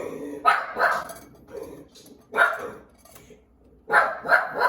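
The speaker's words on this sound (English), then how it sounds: "Our one-eyed pug doesn't like it when the air fryer dings." A one-eyed pug barks in a home kitchen after an air fryer dings, giving several close bursts of rough barking separated by short pauses.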